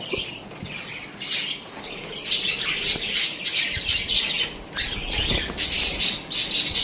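A flock of rainbow budgerigars chirps and squawks continuously, with shrill overlapping calls close by.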